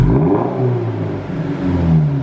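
A 2025 Subaru BRZ tS fitted with a Corsa exhaust revs up close and loud, its engine note climbing and holding in a smooth, steady drone for a couple of seconds, with no talking.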